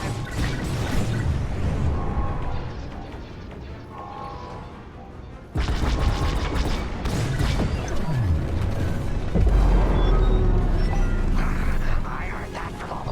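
Bomb explosions and heavy blasts in the Star Wars: Squadrons space combat game, booming impacts over a constant rumbling battle bed, with radio chatter from the game running through the mix.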